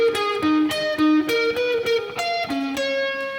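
An electric guitar plays a quick string-skipping passage with alternate picking, crisp separate notes jumping between high and low strings in a steady rhythm, close and alone.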